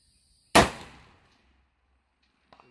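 A single rifle shot from a .224 Valkyrie or 6mm Creedmoor cracks sharply and loudly, then decays quickly into silence, followed by faint small clicks near the end.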